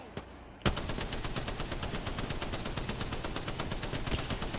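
Automatic gunfire in a battle royale video game with the character Valkyrie rattles in a fast, even stream of sharp shots after a single opening crack, loud and close.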